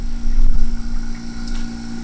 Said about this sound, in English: here's the little vacuum pump itself